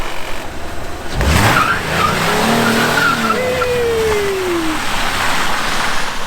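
Dodge Caravan doing a front-wheel burnout on Goodyear Nordic tires with traction control off: a loud, sustained engine roar joined by a rising, wavering tire squeal that carries on steadily to the end.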